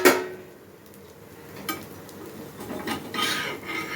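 A cooked dosa being scraped and lifted off a hot pan with a spatula, a few short close scraping and rasping strokes with brief metallic clinks, with no one talking.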